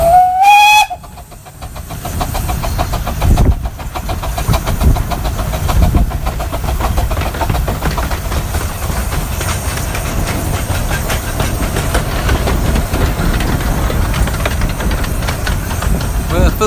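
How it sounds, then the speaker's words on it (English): The Northern Chief steam locomotive opens with a short whistle blast, then rumbles and hisses steadily as it arrives, the loud noise of engine and steam continuing throughout. "Now if you're listening, here's your train."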